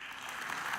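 A short burst of dense clapping from a crowd, steady and even throughout.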